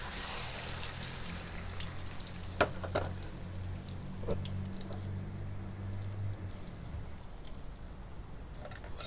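Three beaten eggs fry in smoking hot oil for a Thai-style omelette, giving a steady, close sizzle and crackle with a few louder pops over a low background hum.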